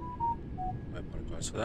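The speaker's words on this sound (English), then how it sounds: "That was my phone." A mobile phone gives off short electronic alert tones, a few brief beeps at a steady pitch, heard under a person's talking.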